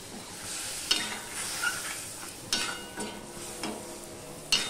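Coriander, chili and turmeric spice paste frying with a little water in a pan, a soft continuous sizzle broken by several sharp scraping stirs of a spoon, close and moderately quiet.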